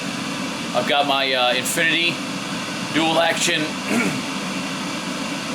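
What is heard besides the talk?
exhaust fan running in spray booth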